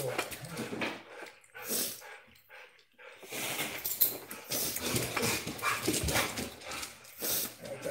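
Dogs whimpering and fussing close by in bursts with short gaps, some quiet stretches between, no clear talk over them.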